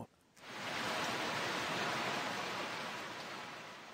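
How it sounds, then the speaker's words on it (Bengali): Heavy rain pours down in a dense, even roar that starts abruptly after a short quiet moment and holds steady at a loud, close level, with no voices. "জোরে বৃষ্টি পড়ছে"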